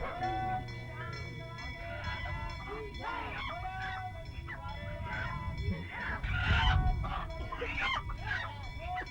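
Agitated rooster clucks and squawks in overlapping bursts amid a noisy outdoor crowd at a sacrificial ritual in Nepal, the calls repeated and fairly close.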